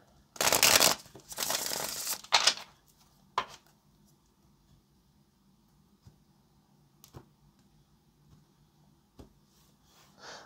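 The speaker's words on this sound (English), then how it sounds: "Let's get this last shuffle" Tarot cards shuffled in two quick riffling bursts, then a short flutter, followed by quiet with occasional light taps and handling sounds.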